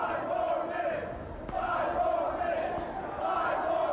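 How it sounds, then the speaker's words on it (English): A wrestling crowd at an NWA World Title show, the 1997 Eddie Gilbert Memorial event, chants in a rhythmic repeating pattern that rises and falls every second or so across a steady roar of voices. "The crowd chanting for 5 more minutes"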